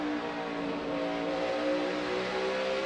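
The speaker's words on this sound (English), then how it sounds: "Kyle Busch got back to the throttle first." NASCAR stock car engines roar together at the 2011 Jeff Byrd 500, a loud sustained blend of revving motors on the track with no gaps, heard alone.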